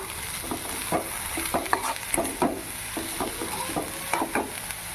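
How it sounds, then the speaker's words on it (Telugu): Green beans being stir-fried in seasoning for a beans fry, with a utensil scraping and stirring the pan in repeated irregular strokes over a steady close sizzle. "ఇప్పుడు మనము బీన్స్ వేసుకుంటాము. బీన్స్ వేసుకొని బాగా కలుపుకొని మొత్తం పట్టేలాగా"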